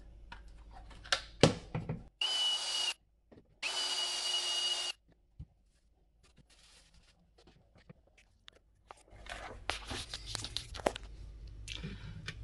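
A power sander runs on a glass pane with 150 grit paper in two harsh, steady whirring bursts of about a second and a half each, close and loud, between quieter handling clatter.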